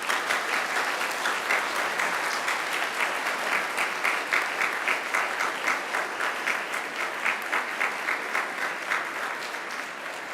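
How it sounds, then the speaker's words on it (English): Sustained applause from a large graduation ceremony audience at Macquarie University fills the hall, with dense, even clapping that holds steady throughout before easing slightly near the end. "And now it's time to give them a mighty round of applause."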